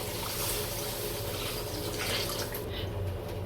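Steady running water pours continuously into a pan for a few seconds, a full rushing stream without pause.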